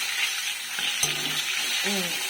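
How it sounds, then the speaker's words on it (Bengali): Fish frying in a home kitchen pan gives a steady, bright hiss throughout, with a brief clink near the middle and a short faint voice-like sound near the end. "আর এই যে মাছ ভাজা হচ্ছে"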